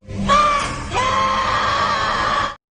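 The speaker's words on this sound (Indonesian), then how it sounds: "Makhluk itu tiba-tiba berteriak dan menunjuk ke arah Linda dan Jessica." A white-clad creature in the horror film DreadOut lets out a loud, sustained shriek lasting about two and a half seconds, wavering in pitch with a brief break near the start, heard alone.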